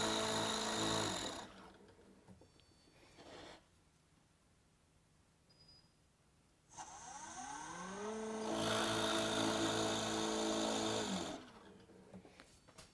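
A Nova 18-inch DVR drill press runs with a steady motor hum, rising into louder grinding bursts as the bit cuts into a board, then spinning down between passes.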